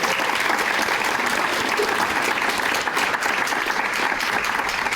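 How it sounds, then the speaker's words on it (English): Sustained applause from an audience at a school district's State of the Schools event, a dense, even clatter of many hands clapping for the full stretch. "Please clap."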